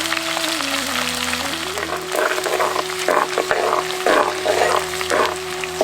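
Mustard seeds, fenugreek, asafoetida, curry leaves, dried red chillies and crushed garlic sizzle steadily in hot coconut oil for a South Indian garlic kuzhambu, with crackling bursts and stirring scrapes rising midway over a low background hum.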